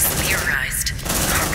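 Gunfire in the sci-fi video game Aliens Dark Descent, a dense rattling burst of shots filling the short moment, loud and close, with voices and combat effects layered underneath.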